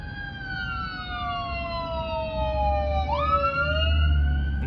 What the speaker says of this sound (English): The ambulance coming up on the side on the highway.